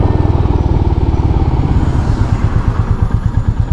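A Royal Enfield Meteor 350 custom motorcycle from 2023 thrums steadily while being ridden, its single-cylinder engine pulsing in a fast, even rhythm close to the microphone, loud and continuous with no voices over it.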